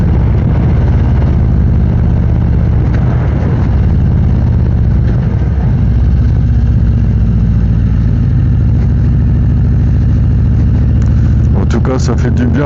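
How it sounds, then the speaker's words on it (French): A Harley-Davidson Street Glide Special 120th anniversary motorcycle rumbles steadily while riding around Lake Aiguebelette, a loud, low, continuous engine drone with wind buffeting, and someone talks over it throughout. "Ça fait du bien de reprendre la moto"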